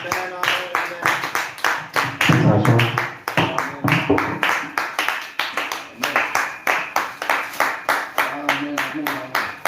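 A church congregation claps in steady rhythmic unison, loud and sustained, with voices singing and cheering in praise under the beat throughout.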